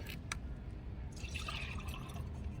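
Homemade liquid chilli-plant remedy being poured and strained, with a soft trickling, dripping flow of liquid near and steady throughout, brief splashy bursts early on.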